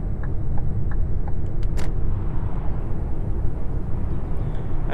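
Steady road traffic from AI vehicles in Euro Truck Simulator 2, a continuous loud low engine and tyre rumble with a brief passing whoosh partway through, no talk.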